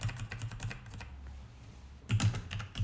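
Typing on a computer keyboard, soft close key clicks in quick bursts, pausing briefly in the middle before a louder flurry of keystrokes.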